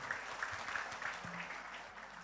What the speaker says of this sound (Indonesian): Sekali lagi dong tepuk tangan buat kita semua.